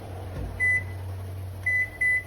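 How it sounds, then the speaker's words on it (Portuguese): A microwave oven hums steadily with a pumpkin inside, close and alone, and high electronic beeps sound several times over the drone. "Vou colocar ela aqui no micro-ondas 5 minutinhos."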